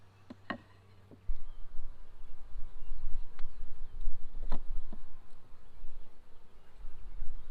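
Honey bees buzz around an open hive while a caged queen is introduced between frames; a soft, continuous insect hum with scattered faint ticks and clicks of hive work close by.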